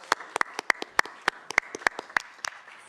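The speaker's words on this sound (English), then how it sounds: "can we give her a hand clap" A council meeting audience gives a round of hand clapping for a woman being honoured in chambers. Sparse, distinct individual claps in an irregular rhythm over about three seconds, fairly quiet and not a dense ovation.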